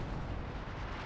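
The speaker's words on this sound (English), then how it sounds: "But the artillery just blew it the fuck up." A dense, sustained roar of artillery explosions in the video game Company of Heroes 2, loud and rumbling without a break for about a second.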